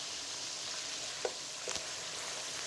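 Chicken curry with yogurt and spices fries in a pan, making a steady low sizzle throughout with a couple of faint stirring clicks, close and with no voices.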